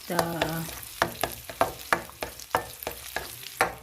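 Egg being soft-cooked and stirred in a pot for Asian noodles, with a steady run of close scraping utensil strokes against the pot over a low sizzle, no talking.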